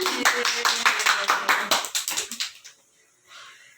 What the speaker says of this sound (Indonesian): Berikan aplaus untuk Fauzan